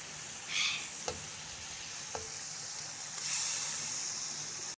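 Koftas sizzle in frying masala over a high flame, a steady hiss broken by a few sharp pops, then a louder surge of sizzling toward the end, with no talking.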